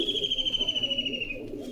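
Pigeons of several breeds kept for sale coo in soft, rolling low murmurs, close by, with a steady thin high-pitched whine running above them throughout.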